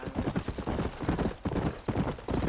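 Horse hooves clip-clop in a steady walking rhythm in the video game Red Dead Redemption, close and fairly loud, with a brief hint of a horse's snort amid the repeating hoof beats.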